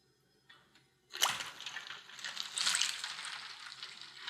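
A large smoked bologna, made from scratch, is lowered into an ice-water bath in a hotel pan, giving a sudden splash followed by a few seconds of sloshing and dripping water.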